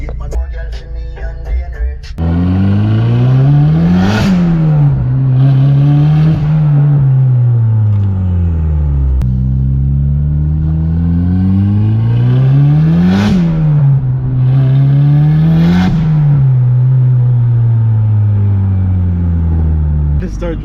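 A car engine revs and pulls while driving, its pitch climbing and falling in repeated surges, loud and close throughout after a brief quieter start, with talk mixed in.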